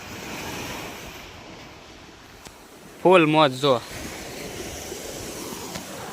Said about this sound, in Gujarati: દરિયા હાવ કાંઠે કેવો ઘૂઘવાટા કરે